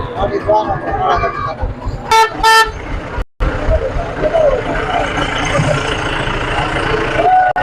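Two quick, loud blasts of a vehicle horn cut through nearby voices and background traffic noise.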